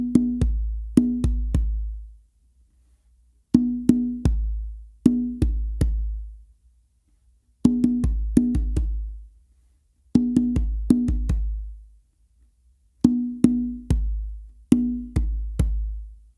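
A hand drum plays a repeating pattern of ringing open strokes from the dominant hand and two deep bass thumps from the other hand, in steady groups separated by short pauses, close and clear.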